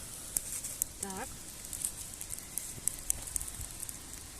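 An outdoor campfire, freshly lit with a lighter on a breezy day, crackles and pops in scattered sharp snaps over a soft, steady hiss, with a brief voice sound partway through.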